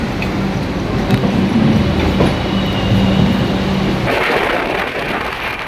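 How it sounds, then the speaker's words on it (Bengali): Trains at a railway station, including the Doon Express, passing close by with a loud continuous rumble and rhythmic clatter of wheels, then a brighter, rougher rattle toward the end, with no talk. "দেখুন একসাথে 3টে ট্রেন। আমাদের দুন এক্সপ্রেস, এদিকে একটা লোকাল"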